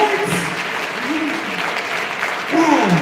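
Applause from the audience at a Houston healthcare conference panel runs steadily throughout, with voices speaking over the clapping.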